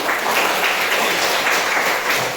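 Audience applause at an Indonesian teacher-training event, a steady dense wash of clapping held at even loudness throughout with no voices over it.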